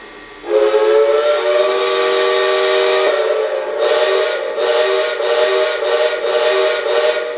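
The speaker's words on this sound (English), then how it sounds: "If I blow the whistle, you're going to see smoke shoot out the whistle like a real steam engine." A Lionel Legacy 2-8-0 Consolidation model steam locomotive sounds its whistle: one loud, sustained chime-like blast begins after a brief pause, then gives way to softer rhythmic pulses. No one speaks.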